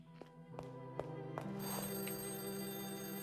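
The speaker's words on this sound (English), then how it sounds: "Wait, the phone's ringing again." Telephone in the game Lorelei and the Laser Eyes, a few soft taps and then a steady electronic ring that holds its pitch over a low hum.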